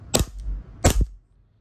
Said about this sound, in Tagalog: Check natin kung ilang FPS to out of the box. Firing.